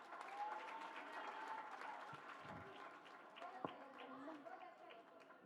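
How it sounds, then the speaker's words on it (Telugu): Applause from a school audience fills the space after a women's empowerment dance performance, with steady mixed clapping and crowd murmur going on throughout. "మరొకసారి మన చప్పట్లతో వారిని అభినందిద్దాం."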